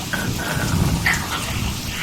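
Staged storm sound effects for a performance of Shakespeare's The Tempest: a steady wash of rain with a low thunder rumble rolling beneath it, dense and continuous throughout.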